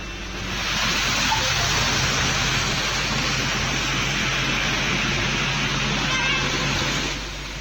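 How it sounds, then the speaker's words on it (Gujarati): Heavy unseasonal rain with hail in Gujarat: a loud, steady wash of falling rain that swells in and fades at the end. "કમોસમી વરસાદ વરસ્યો છે"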